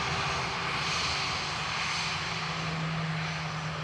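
Norwegian airliner arriving from Copenhagen at Dublin Airport, a steady distant engine roar with a faint low hum, fairly quiet and even throughout.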